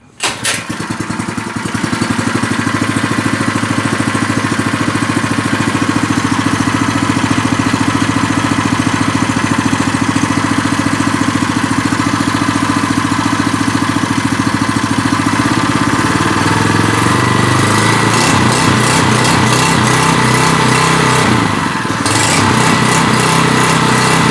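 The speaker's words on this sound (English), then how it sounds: "Let's see how this little engine runs." Small engine on a 1950s David Bradley walk-behind tractor, a swapped-in replacement, cranks and catches, then runs steadily at a loud, buzzing idle close by for over twenty seconds with some revving near the end.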